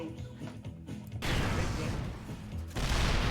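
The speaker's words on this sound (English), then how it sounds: "his damn business right now is being shelled by multiple siege tanks" Multiple siege tanks shelling in the StarCraft 2 video game: heavy, crunching blasts that suddenly swell into a dense roar, break off briefly and then slam back in, loud and continuous.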